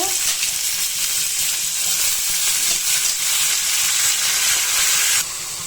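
Potatoes, dried chili and onion fry in hot oil with a steady, dense sizzle, loud and close, that holds evenly before cutting off abruptly near the end; no voices.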